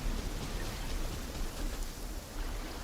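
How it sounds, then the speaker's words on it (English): Rain falling in the video game Genshin Impact, a dense, even hiss of steady rainfall that holds constant throughout, with no voices. "Oh god, it started to rain."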